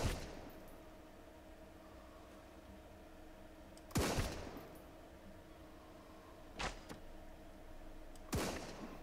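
Gunfire in the Sunkenland survival game: a few sharp, separate shots, about four spaced several seconds apart, crack out over a quiet background with no talking.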